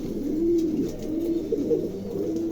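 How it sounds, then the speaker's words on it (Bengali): Lakha pigeons cooing continuously up close, a low throaty murmur of repeated coos with no talk. "এত বড় কবুতর পাওয়াই যায় না"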